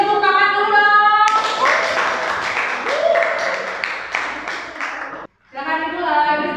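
Classroom audience applauding at a group presentation, a dense burst of hand clapping lasting about four seconds, loud and close, with a speaking voice before and after it.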